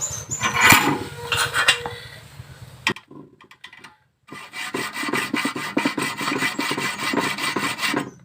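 A hand saw rasps back and forth through metal to thin down a bolt on a motorcycle crankcase cover, in loud repeated strokes that stop for a short pause and then resume in a steady rhythm.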